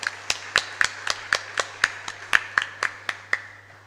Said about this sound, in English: we should give another round of applause